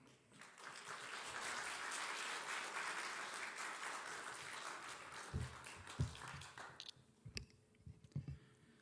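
A church congregation at a revival service bursts into sustained applause that swells and holds for several seconds, then thins into a few scattered claps and taps.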